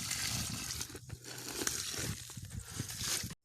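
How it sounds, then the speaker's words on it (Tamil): Half a bucket of water poured into a freshly dug planting pit for a coconut seedling, a close, steady splashing gush lasting about three seconds before it stops abruptly. "அப்புறம் 1/2 பக்கெட் தண்ணி ஊற்றிக்கலாம்."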